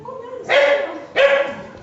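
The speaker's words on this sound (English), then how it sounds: "I know there's a doggy" A dog inside a nuclear bunker gives two loud, close barks about a second apart, with a faint whine before the first.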